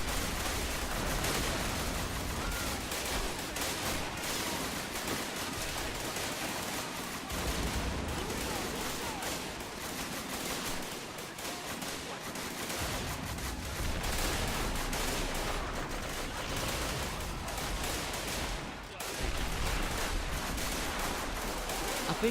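Dense World War I battlefield gunfire in the trench-warfare game Arma/AS2 Great War Realism: constant overlapping rifle and machine-gun bursts with distant artillery thuds, a loud chaotic fusillade continuing throughout with no pause.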